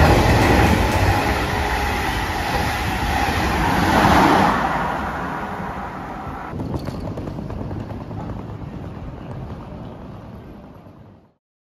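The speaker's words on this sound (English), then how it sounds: "And now here we go on our first high-speed train ride." A high-speed train rolls along in a continuous loud rumble with a high whine, heard from inside the carriage and fading out near the end.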